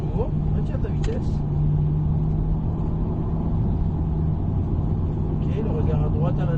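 Corvette C8 engine droning steadily on the Haute Saintonge race circuit, a constant close rumble with a sustained low tone that builds very gradually under an instructor's voice talking throughout.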